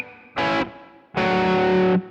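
Distorted electric guitar plays two chords from a song, a short stab and then a longer sustained chord ringing loud and close before cutting off.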